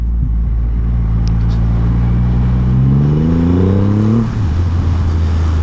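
Triumph Rocket motorcycle pulling hard in second gear, engine note rising steadily in pitch under full throttle for several seconds before easing off, loud and close with wind rush throughout.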